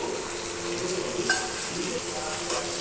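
Chopped tomatoes go into frying onions in a pan and get stirred, a dense steady sizzle with scraping and a few faint utensil clinks.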